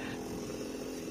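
A chainsaw cuts into a huge old fig tree being worked down for an ornamental bonsai-style trunk, its engine droning loud and steady throughout with no break.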